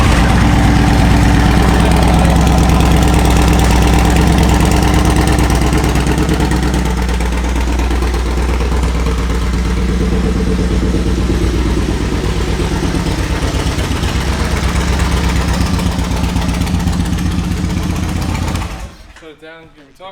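A 2012 Yamaha Raider motorcycle with about 10,000 miles, in neutral, starts up and settles into a loud, steady, close-up idle with a deep throbbing rumble that keeps going before the engine is shut off near the end.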